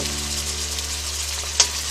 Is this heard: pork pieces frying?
yes